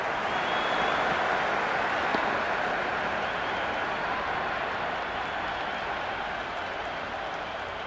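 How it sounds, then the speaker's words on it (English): Stadium crowd in a Cricket 26 Pakistan versus New Zealand match roars and cheers after a boundary four, a dense, steady wall of noise that holds loud throughout and eases slightly toward the end. "The crowd love that one."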